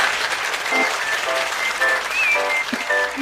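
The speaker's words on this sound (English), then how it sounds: "Can you clap for her?" Audience applauding steadily at a language day event, a dense wash of clapping close to the microphone, with voices and cheers rising over it.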